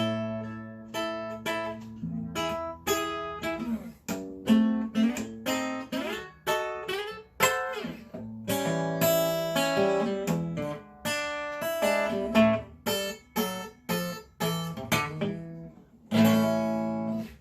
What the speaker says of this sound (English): And early blues kind of sounds like this.